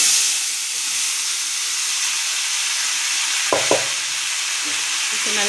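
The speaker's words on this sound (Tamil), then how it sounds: "தண்ணி இருத்து வச்ச இந்த கருணக்கிழங்கை இதில் சேர்த்துக்கலாம்." Elephant foot yam, soaked in water, sizzles steadily in hot oil with mustard seeds, cumin and curry leaves. A constant loud frying hiss fills the pan, broken by a couple of sharp scrapes from a stirring spoon.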